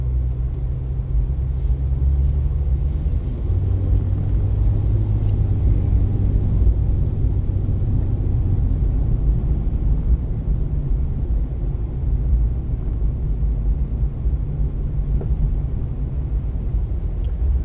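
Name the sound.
road traffic, cars driving past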